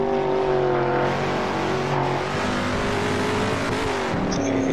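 Shelby 427 Cobra in Assetto Corsa at Vallelunga, its big engine roaring loud and close with rising and falling revs through gear changes and a brief tire squeal near the end.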